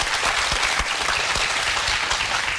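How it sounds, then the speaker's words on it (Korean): Studio audience in a Korean TV talk show applauding, dense continuous clapping filling the space at close range, with no voices over it. "박수 한번 보내주시죠"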